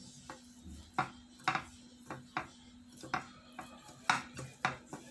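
A fork mashes boiled, peeled potatoes in a dish, giving a series of soft, close scraping taps against the dish at an uneven rhythm, with no voices.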